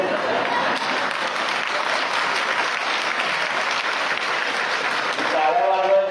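An audience at a Prakash Ambedkar political speech applauds in a dense, continuous burst of clapping that holds steady for several seconds, with crowd voices mixed in.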